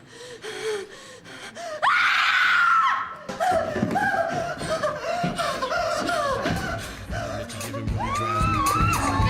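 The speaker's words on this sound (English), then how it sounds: "You always run when someone starts screaming" A woman screams loudly in a tense indoor scene of a British TV drama, one short sustained shriek, followed by ragged gasping, panting and breathy whimpers.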